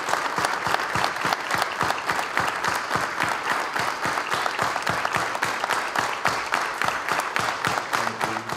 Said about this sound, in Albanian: ata që erdhen në këtë akademi uftuan për një minutë duartrokitje.